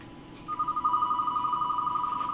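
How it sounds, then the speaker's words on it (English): Phone ringing in a VR escape room game, an electronic ringtone trilling in rapid steady pulses, clear and fairly close, continuing to the end. "I'm gonna get a phone ringing."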